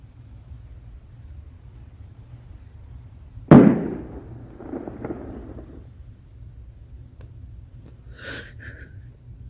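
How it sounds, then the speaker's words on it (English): Distress flare fired from the sinking Titanic in a ship-sinking video game: a single sharp launch crack that hisses and fades over a couple of seconds, over a low steady engine hum, followed by faint ringing tones. "Let's go ahead and shoot up a flare."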